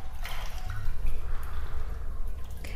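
Water dripping and trickling from a pipe in a flooded concrete Backrooms game level, an irregular wet patter over a low rumbling ambience.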